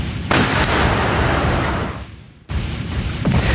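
Gunshots boom in the video game Sakura School Simulator, loud bursts of gunfire with a dense rumbling tail, one sharp blast after a short dip near the end.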